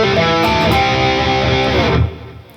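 Distorted electric guitar playing a two-bar closing lick: a loud, sustained run of overdriven notes that stops abruptly near the end, leaving a fading tail.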